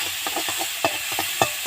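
Gourd seeds fry in a pan with turmeric, chilli and salt, giving a steady close sizzle broken by a rhythmic run of scraping stirs and a few sharper clinks of the spatula.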